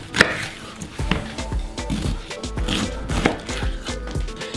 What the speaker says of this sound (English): And then we're going to cut it into cubes.